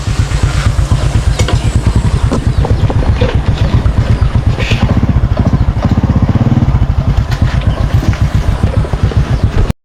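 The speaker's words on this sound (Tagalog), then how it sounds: "Motor ni Kano ni kay Vince." A motorcycle engine idles close by with a steady, rapid low thump that runs unbroken and fairly loud throughout, with faint background clatter.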